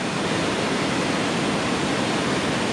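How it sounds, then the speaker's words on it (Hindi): A fast-flowing mountain stream on a rough trail toward the Valley of Flowers pours out a steady, loud, close rush of water, continuous and unbroken with no voices. "ये नाला है, बहुत तेज पानी की धार है"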